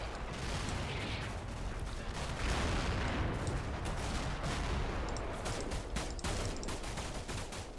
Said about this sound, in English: No he's not, that's more GMG fire.